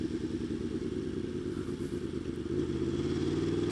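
A motorcycle engine runs steadily nearby, a continuous throbbing rumble with mechanical clatter that swells slightly toward the end.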